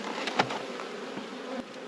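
A close, steady drone of honeybees rises from an opened beehive being inspected, with a few soft knocks and handling sounds over the continuous buzz.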